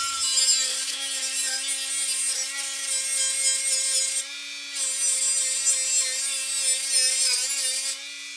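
A DIY sanding disc on a power tool grinds steadily against a cypress wood stump, a continuous whirring rasp with strong harmonic hum, briefly easing about halfway through before resuming close and loud.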